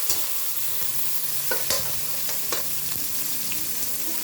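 Vegetables sautéing in a pan sizzle steadily, with a few sharp clinks and scrapes of stirring breaking through the constant hiss, close up and with no talk.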